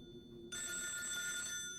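A telephone bell starts ringing after a brief pause, a bright sustained electronic trill that carries on steadily to the end, with a faint low hum underneath.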